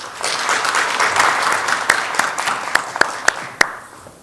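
An audience at an academic seminar applauds steadily, then the clapping thins out into a few scattered, sharper claps before fading.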